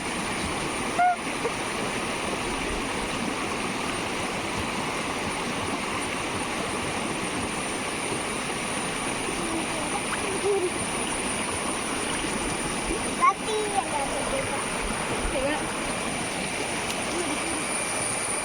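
A small, low-water stream running over rocks behind a house, a constant close rushing babble that holds steady throughout with a couple of faint knocks, no talking.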